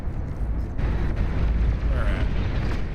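A rumbling, explosive blast from a long-range plasma cannon in a video game, a sustained low boom with crackling texture lasting several seconds, with faint game effects layered on top.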